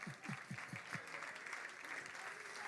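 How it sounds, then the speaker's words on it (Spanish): A church congregation claps in praise, a dense burst of steady applause throughout, with a few rhythmic low thumps near the start and a voice faintly audible in the mix. "palmas de alabanza para el Señor."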